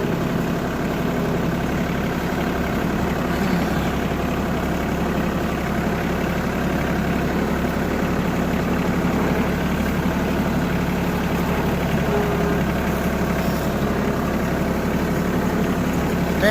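A tractor fitted with a grapple idles steadily in a field, its low engine drone continuous and even throughout with no talking.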